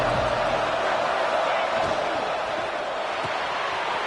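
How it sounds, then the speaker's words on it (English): Stadium crowd roaring steadily in the NCAA 26 college football video game, a dense, continuous cheer filling the whole stretch with no break. "A big 3rd down coming, and hotty-toddy, gosh almighty, this crowd is ready."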